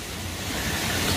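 Steady broadband rushing of a waterfall on Savai'i, Samoa, filling the short moment as a continuous wash of falling water with no pauses, fairly close and even in level.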